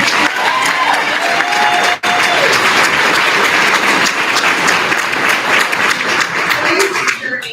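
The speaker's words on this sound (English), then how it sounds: "Now that deserves a round of applause" Sustained audience applause for a graduate earning a welding certificate at a graduation ceremony, dense clapping and crowd noise filling the room, with a brief dip partway through and faint cheering mixed in.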